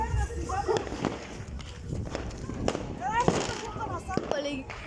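New Year's fireworks and firecrackers popping and crackling in repeated sharp bursts, some near and some distant, over steady crowd noise and people talking and shouting.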